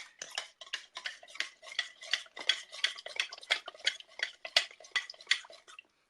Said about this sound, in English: Okay, so we're going to stir it.